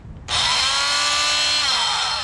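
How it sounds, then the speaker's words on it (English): An oscillating multi-tool shaping wood starts abruptly and holds a loud, steady high buzzing whine, running continuously at close range with no talk. "these oscillating tools that just sort of shimmy back and forth, they really are terrific"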